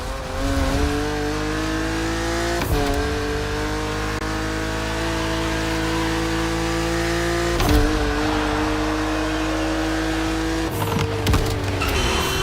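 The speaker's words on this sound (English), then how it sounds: "BMW Z models are what we call roadsters. Two-seaters made for relaxing behind the wheel, appreciating the scenery and the thrill of speed." A BMW Z roadster two-seater engine drones loudly in the racing game The Crew Motorfest, holding a steady rising pitch that drops at gear shifts, with no voices over it.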